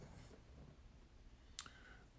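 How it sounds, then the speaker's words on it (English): A single crisp click of a computer mouse stands out against a quiet room background, close and brief, with no talking. "And I'm clicking on it."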